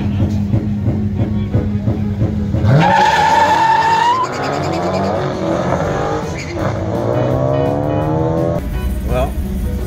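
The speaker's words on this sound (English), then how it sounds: "And I am spinning the tires like going crazy. These tires are not hooking at all." A car on a track spins its 295/40R20 tires, with a loud engine roar building into a sustained high tire squeal that wavers and continues under a steady rumble for several seconds.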